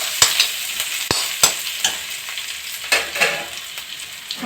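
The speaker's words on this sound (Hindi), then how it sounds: "ये देखिए प्याज पक रही है" Onions frying in a pan give a steady close sizzle, with repeated sharp scraping strokes of stirring at irregular intervals and no voices.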